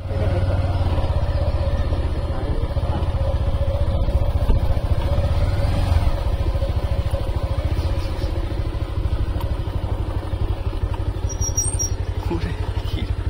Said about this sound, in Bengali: একটা বাইক আসার কারণে আমরা কিছু